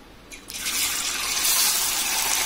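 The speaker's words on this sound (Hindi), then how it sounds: "अब हमारा तेल गरम हो चुका है। हम इसमें थोड़े से नूडल्स डाल देंगे।" Noodles dropped into hot oil for Chinese bhel, setting off a loud, steady hiss of frying that swells after a short start and holds strong and close with no talk.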